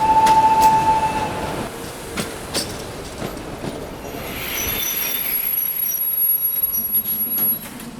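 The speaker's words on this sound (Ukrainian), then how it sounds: "На постій колії третьої платформи проводиться посадка на швидкий поїзд номер 45" Express passenger train at a station platform, with loud screeching wheel squeal and rolling rail clatter up close, plus a thin high whine through most of the passage.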